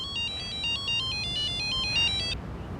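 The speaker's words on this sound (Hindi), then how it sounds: "अरे यार, राम कृपाल जी को भी अभी फोन करना था।" A bright electronic ringtone plays a repeating melodic pattern for about two seconds, then stops abruptly, leaving quiet background noise.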